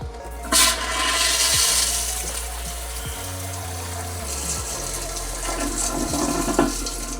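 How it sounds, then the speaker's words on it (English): An RV toilet flushes with a loud rushing surge of water and a gurgling drain, followed by a steady hiss of refilling water and pump hum, up close with no talking. "We're going to flush the toilet."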